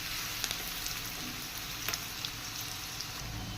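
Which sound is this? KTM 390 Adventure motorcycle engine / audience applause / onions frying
onions frying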